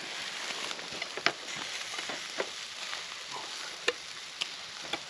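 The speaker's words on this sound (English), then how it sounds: "It's definitely sizzling now." Food sizzles and spits in a pan over a fire at a woodland wild camp in Kent, a steady close crackling hiss broken by occasional sharp pops, with no talking.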